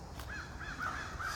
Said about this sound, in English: crows, ravens, whatever those are